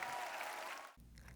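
Brief burst of audience applause and cheering after a concert performance in Seoul, clapping that cuts off abruptly after about a second.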